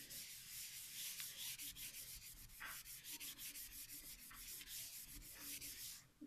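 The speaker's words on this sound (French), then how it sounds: "avec mes lingettes, je vais nettoyer mon tapis" Wet wipes are rubbed back and forth across a craft mat, a steady close-up scrubbing with a quick, rhythmic swishing texture that continues without pause.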